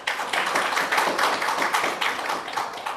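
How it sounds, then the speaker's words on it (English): An audience at a channel launch event claps in sustained applause, a dense crowd patter of many hands, steady and fairly close for the whole stretch with no voices. "let's put a round of applause for this team, please"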